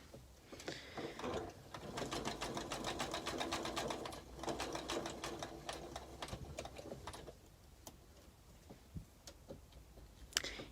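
Sewing machine stitching a Liberty table runner, a rapid steady mechanical clatter that runs for several seconds, slows near the end, then gives way to a few scattered ticks and clicks close by.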